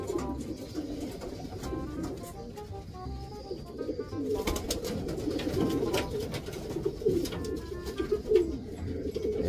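Racing pigeons coo steadily at close range in a loft, soft low throaty calls overlapping continuously, with occasional faint chirps and light shuffling in the background.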